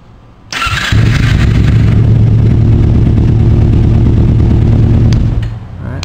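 A motorcycle engine is fired up with its starter button, cranking briefly before catching and settling into a loud, steady idle close by, then fading slightly at the end.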